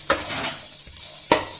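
Finely chopped carrots and garlic stir-frying in a pan for hot and sour chicken soup. A steady sizzle is broken by two or three sharp spatula scrapes over less than two seconds.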